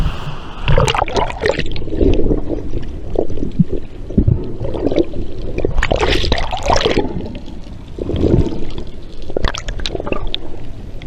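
Water sloshes, gurgles and trickles continuously up close as it comes into a boat, with irregular splashes and squishy surges throughout.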